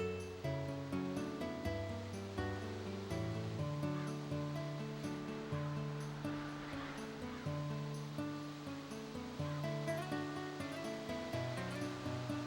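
River or waterfall water flows in the Dark Cloud 2 video game, a faint steady rush under a looping melodic game soundtrack that runs throughout.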